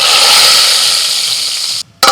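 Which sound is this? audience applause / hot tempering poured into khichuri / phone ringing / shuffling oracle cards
hot tempering poured into khichuri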